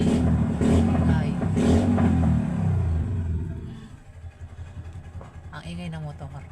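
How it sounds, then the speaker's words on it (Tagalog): A motorcycle engine revs and rumbles nearby on a street by Manila Zoo, loud at first then easing into a lower idle, with a voice talking over it throughout. "ang ingay ng motor."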